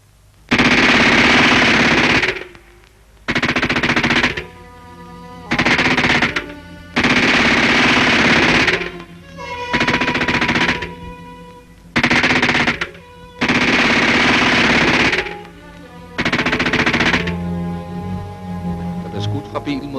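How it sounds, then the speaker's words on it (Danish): Gunfire from a car aimed at a crowd during unrest, heard in archival film: loud, repeated bursts of rapid automatic-sounding shots separated by short pauses, close and harsh. "Der blev skudt fra bilen mod folk."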